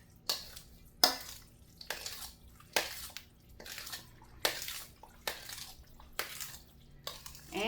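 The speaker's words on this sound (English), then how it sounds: "Now I give these a quick stir." Food in a cooking pot gets a quick stir, with about nine evenly spaced scraping, swishing strokes close by and no talking.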